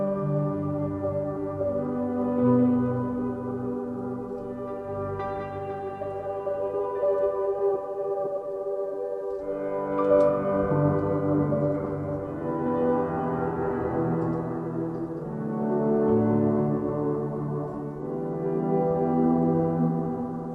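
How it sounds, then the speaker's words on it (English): A soft, sustained Piano Textures synth pad from Spitfire Audio's Serendipity library swells gently with layered harmonic tones, shifting chords around ten seconds and continuing to bloom evenly throughout, with no talking. "it's called Piano Textures, and it sounds like this."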